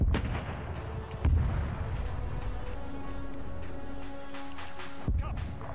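Tank battle in Arma 3, World War 2 Soviet armor: heavy booming gunfire and impacts, a couple of sharper blasts over a constant rumbling engine drone, with voices talking over it.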